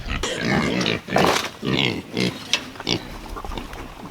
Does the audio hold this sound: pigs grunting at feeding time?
yes